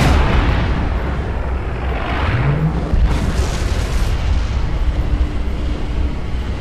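Laser fired in the video game Half-Life 2 Episode 1: a loud, continuous rumbling roar with a rising hiss partway through, heard alone without voices.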